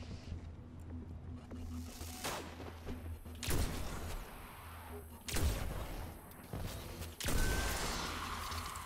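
Gunfire from a solo Destiny Nightfall strike run against Fallen enemies, heard as a few sharp, loud bursts spaced several seconds apart over a steady game background hum.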